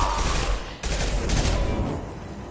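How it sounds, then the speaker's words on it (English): Rifle fire in Mass Effect 2 pours out as a dense, loud burst, briefly cut off and then resumed before tailing away. "I love this rifle"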